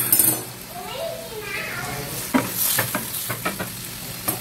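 Fried potatoes are stirred in a pan, with a soft sizzle and a few scraping and clinking knocks toward the end, while people talk over it.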